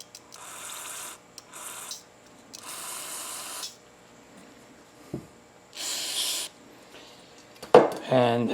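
Short bursts of aerosol cleaner are sprayed into a small part of a Trailmaster go-kart that will not start, several separate hissing blasts of about a second each with quiet gaps, ending in a clunk and a louder scrape.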